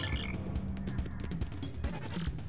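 In Paper Mario: The Thousand-Year Door, a frog croaks in a steady run of low, throaty pulses over dense game music and effects.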